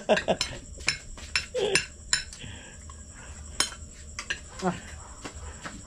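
A ladle scooping cooked rice from a pot, with repeated metallic scrapes and clinks in quick uneven bursts close by, while people chat over it.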